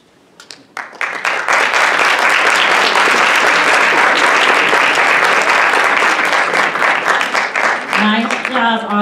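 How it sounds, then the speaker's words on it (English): Applause from a lecture audience for a panel swells quickly after a quiet start and holds dense and loud for several seconds, then fades as a voice begins speaking at the end. "I was about to ask to give our panel a round of applause, so thank you"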